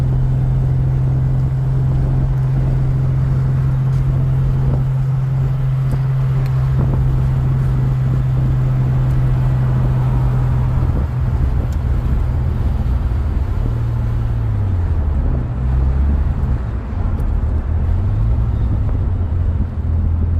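A car driving on the road, heard from inside: a loud, steady engine drone with road rumble and wind noise, the pitch holding steady and then wavering up and down as speed changes.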